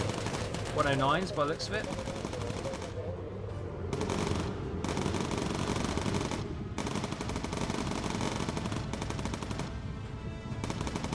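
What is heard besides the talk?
anti-aircraft flak fire in the video game Bomber Crew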